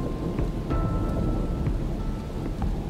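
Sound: heavy rain and thunderstorm in the Australian bush

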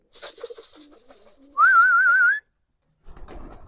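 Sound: pigeons cooing

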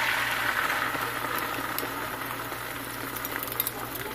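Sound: omelette mixture poured into hot pan, sizzling

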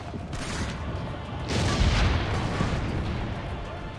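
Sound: cannon fire in a video game

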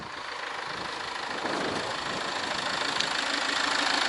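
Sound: Land Rover Freelander 2 engine idling

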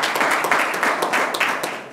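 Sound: audience applause

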